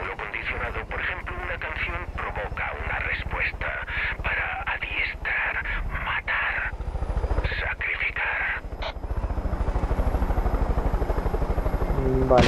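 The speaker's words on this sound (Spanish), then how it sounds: "Otro tipo de helicóptero." A helicopter's rotor in Far Cry 5 thumps rapidly and continuously throughout, close and loud, with game sound effects and a voice talking over it.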